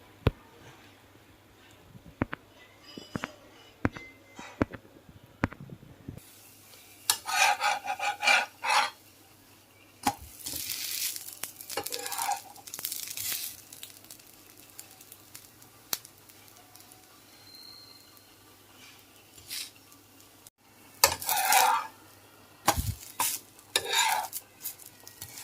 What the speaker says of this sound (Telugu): నేను దోశలు కూడా వేసేస్తున్నానండి.